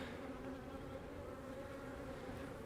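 Honeybees drone around an open nucleus hive during a split and queen inspection, a continuous, even buzz that stays close and faint throughout with nobody speaking.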